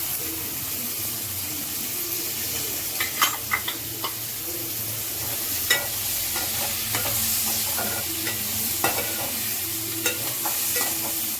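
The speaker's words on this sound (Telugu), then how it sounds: "ఇవన్నీ వేసేసుకొని బాగా ఫ్రై చేసుకోవాలండి ఉడికేంత వరకు." Carrots and curry leaves fry in a pan, giving a steady close sizzle, while a spoon stirs with scattered light scrapes and taps against the metal.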